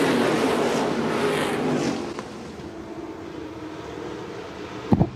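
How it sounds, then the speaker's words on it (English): Stock cars racing at a restart on the Shelby County Speedway backstretch, a loud massed engine roar that fades somewhat after the first two seconds into a steadier distant drone, with a brief sharp bang near the end. "Albertson and Rett side by side down the backstretch. Albertson taking the lead, and lots of fast cars right behind him."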